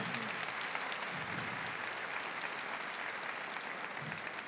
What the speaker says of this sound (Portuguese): Vamos aplaudir os homens, vamos?